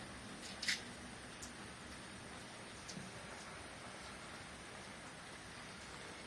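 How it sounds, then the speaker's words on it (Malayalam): Steady rain falling in a soft, even hiss, with a couple of faint sharp drips near the start and no voices. "മഴയല്ലേ മഴ മാറിയിട്ട് പോയാൽ മതിയാ"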